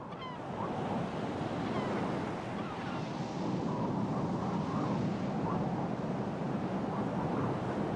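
Continuous roar of stormy sea waves with strong wind buffeting on a penguin island beach, loud and steady throughout with no voices.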